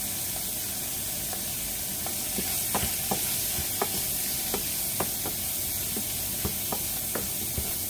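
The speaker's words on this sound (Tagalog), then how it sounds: "Ayan, napiprito na yung ating hipon. Hayaan natin maprito kasama yung ginger." Shrimp frying with ginger in a pan for wonton soup, a steady close sizzle broken by light, irregular stirring clicks.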